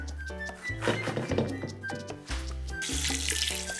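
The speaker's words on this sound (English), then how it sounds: "Add fresh water until the beans are covered by about a ½ inch." Fresh tap water runs into a Dutch oven holding drained black beans and a ham hock, a steady splashing pour with a few dull thunks against the pot, close and fairly loud with no one speaking.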